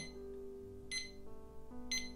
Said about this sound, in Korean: 알람을 미리 들어볼 수 있는 알람 모니터 버튼